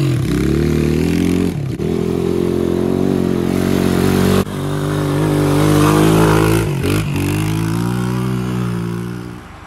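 An old 200X motorcycle engine with a sticky throttle runs steadily close by, its low harmonic rumble rising and falling with brief throttle dips, loud and alone.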